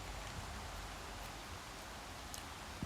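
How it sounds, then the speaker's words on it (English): Rain falls lightly and steadily outdoors, a soft, faint patter with a few scattered drops, and no voices. "It's starting to rain for real."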